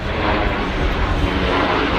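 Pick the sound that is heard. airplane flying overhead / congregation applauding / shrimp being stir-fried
airplane flying overhead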